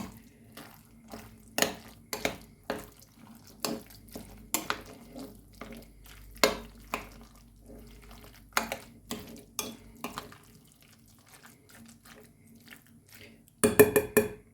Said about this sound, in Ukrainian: Гарненько помішаю все.